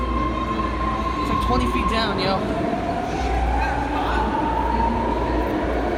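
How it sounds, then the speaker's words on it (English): A subway train pulls out of a station, its steady rumble mixing with squealing wheels and a rising motor whine, while people talk loudly nearby. "That train's gonna go."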